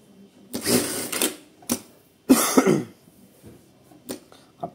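A Sun Special electronic straight-stitch sewing machine runs in several short, close bursts of stitching, with two longer runs separated by quiet pauses and a few brief clicks.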